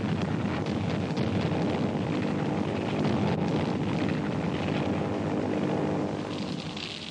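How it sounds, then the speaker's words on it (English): Japanese aircraft engines drone during the bombing of Manila, a steady loud propeller roar that holds for several seconds and eases slightly at the end, with no voices. "Nipponese planes began bombing Manila in early December."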